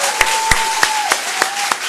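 A church congregation claps in a steady unison rhythm, about six sharp claps in under two seconds, over a sustained held tone.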